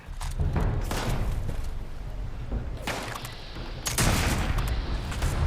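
Heavy booming sniper gunfire rings out in the video game Fallout 76, with loud bursts and rolling echoes layered over a dense, noisy battle backdrop and no speech.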